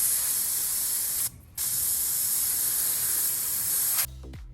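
Compressed air hisses steadily from a tire inflator's valve while a tire is topped off, loud and continuous with a brief pause partway, then cutting off abruptly at the end.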